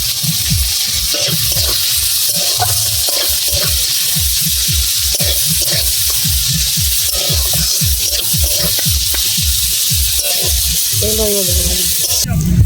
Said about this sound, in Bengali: যাতে পেঁয়াজটা ভালো করে ভাজা হয়